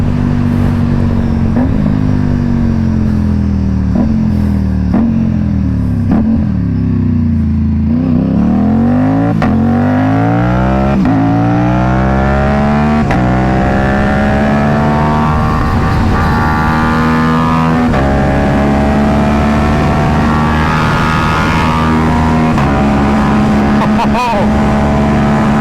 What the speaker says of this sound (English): This bike wants to go fast.